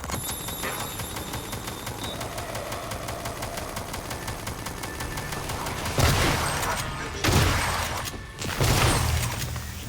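Sustained turret gunfire in the 2017 video game Prey, a dense rattling barrage with louder bursts in the last few seconds.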